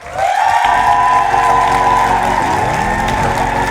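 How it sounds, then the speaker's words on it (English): A live audience applauds as two guest speakers walk onto the stage at a talk on confidence, failure and success, a loud, steady wash of clapping that runs through the clip with tonal music underneath. "Please welcome with me on stage with a warm and hot round of applause"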